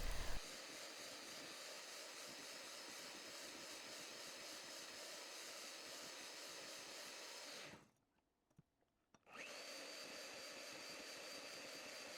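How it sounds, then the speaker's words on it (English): An electric beater whirs at high speed, whisking eggs for crisp meringues; a steady, loud, continuous whine with no talk, briefly cutting out near the end before resuming. "Turn the beater up high for a minute or 2 until the eggs are shiny and have stiff peaks."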